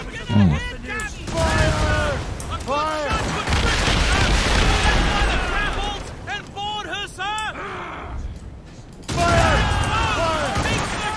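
Gunfire from the Assassin's Creed: Rogue video game set in the North Atlantic, several bursts of loud shots spread through the clip with game music and effects underneath and someone talking between them.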